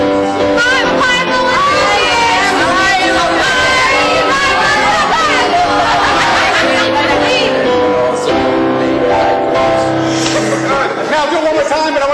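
A large crowd of voices singing and shouting loudly together, a dense, continuous wall of sound with overlapping pitches.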